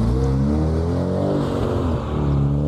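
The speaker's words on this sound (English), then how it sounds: "Now we've got a Honda Integra Type R," A Honda Integra Type R at a farm shop car meet revs hard, its engine note climbing and falling in a loud, steady harmonic drone close by, with no talking over it.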